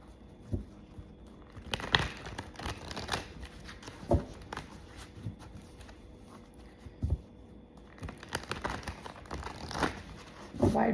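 Tarot cards are shuffled and handled up close, with repeated soft riffling bursts, slaps and papery rustles in an irregular rhythm, fairly quiet and with no talking.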